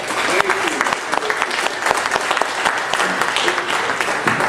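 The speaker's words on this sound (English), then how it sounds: "Let's give him a round of applause." An audience claps for a performer at a mountain music concert, a lively sustained round of applause with sharp hand claps and faint voices mixed in.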